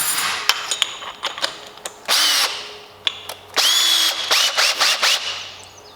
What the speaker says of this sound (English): Gonna do this in the pillar drill.